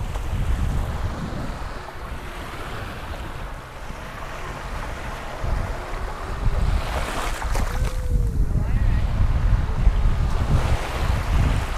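Sea waves break and wash along the beach at Cần Giờ, Vietnam, in a steady, fairly loud surge that swells toward the end, with wind buffeting the microphone throughout.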